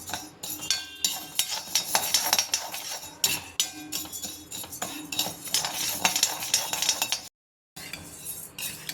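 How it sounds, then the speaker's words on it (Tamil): Barley rice is dry-roasted in a pan over low heat and stirred, giving close, continuous scraping and clinking of a spoon against metal. The sound drops to a brief silent gap near the end. "அடுத்தது நம்ம வந்து பார்லி அரிசியை வறுக்க போகிறோம்."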